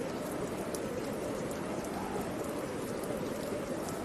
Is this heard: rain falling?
yes